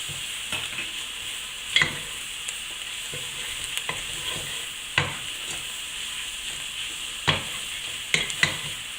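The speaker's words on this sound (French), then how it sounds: "Donc je vais mettre ma farine et je mélange bien." Flour stirred into caramelized onions in a pot for French onion soup, a steady soft sizzle under scattered spoon scrapes and clicks, close and moderately quiet, with no talking.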